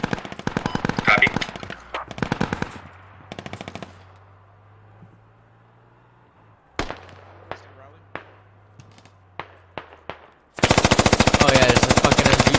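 Bursts of machine gun fire from an MG bunker in a 40-versus-40 squad military video game, rapid rattling volleys early on, scattered single shots in the middle and a loud sustained burst at the end.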